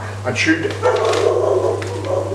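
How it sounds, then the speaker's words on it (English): A big German Shepherd barks a few times indoors in a home kitchen, in short bursts under a person talking, with a steady low hum throughout. "that's a dog barking."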